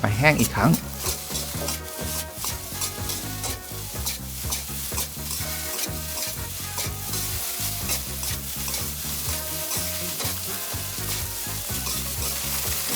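Rice with shrimp tomalley, seasoned with soy sauce, fish sauce and a little sugar, stir-fried in a hot pan: a loud, continuous close sizzle with constant scraping and tossing strokes of the spatula, steady throughout with no voices.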